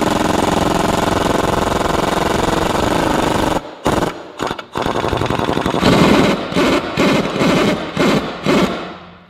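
An Ingersoll Rand impact wrench runs up close during steering box repair on a Ford Super Duty Excursion: a loud, continuous hammering rattle, then a string of short, sharp bursts with brief gaps between them.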